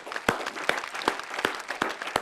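An audience at a Hindi poetry gathering claps in a sparse, uneven rhythm, with sharp individual claps standing out over a soft spread of lighter applause.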